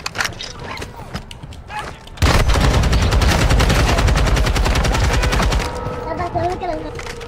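Loud, dense automatic gunfire from Call of Duty DMZ erupts after a quieter opening and rattles on continuously for several seconds, then eases slightly, with voices talking underneath.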